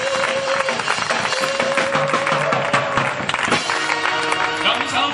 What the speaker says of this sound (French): Alors on acclame le Seigneur.